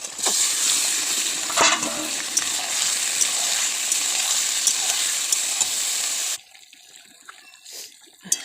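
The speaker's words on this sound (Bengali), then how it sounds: "এইবার দিয়ে দিলাম মাংসগুলো" Meat dropped into hot oil with softened onions, a strong continuous sizzle and crackle close by that cuts off abruptly near the end, leaving faint clinks and quieter residual frying.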